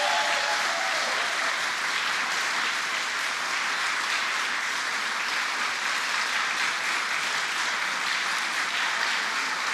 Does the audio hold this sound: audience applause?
yes